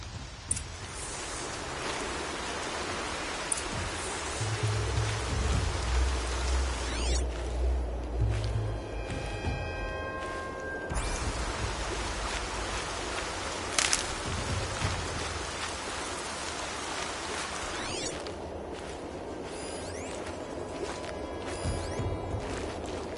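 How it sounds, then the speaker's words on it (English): Steady rain in the video game Horizon Zero Dawn, a continuous hiss of falling drops at even loudness, with faint game effects and a low musical drone beneath. "Everything's sharp and looming in the rain."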